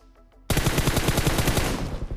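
Rapid automatic gunfire from PUBG Mobile gameplay bursts in after a brief quiet moment, a loud, close, continuous volley of evenly spaced shots with no talking.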